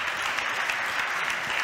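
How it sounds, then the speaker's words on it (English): Applause from a conference audience at an innovation event, a steady wash of clapping that fills the short stretch at even loudness with no voices over it. "So big applause."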